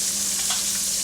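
Pork cutlets browning in a frying pan give off a loud, steady, close-up sizzle of hot fat that hisses evenly throughout, with no voices.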